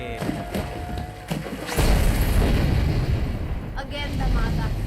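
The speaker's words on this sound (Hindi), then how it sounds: "अगेन धमाका।" A big explosion goes off in an action film scene, a deep rumbling boom that swells after a few sharp thuds and keeps rolling loudly to the end.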